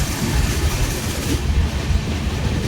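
A Konkan Railway train runs through Goa, its steady rolling rumble and wheel clatter continuous and close throughout, with no talk.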